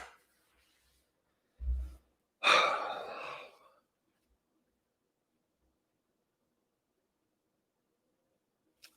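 A person yawns during a live football match watchalong, a single breathy drawn-out exhale lasting about a second after a brief earlier breath, otherwise near silence.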